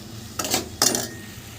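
A spoon stirring pasta with ginger and chilli powder in a metal pan makes two quick, close scraping clinks against the pan, each about a quarter second long, separated by a short pause.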